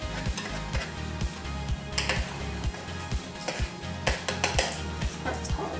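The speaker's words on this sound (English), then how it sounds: "now I'm gonna add the flour and mix it into the batter" Flour being stirred into edible cookie dough batter, a steady run of soft scraping and thudding strokes in a quick repeating rhythm, close and fairly loud with no talking.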